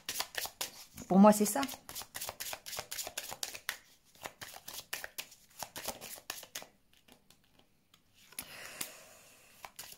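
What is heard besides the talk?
oracle cards being shuffled and laid out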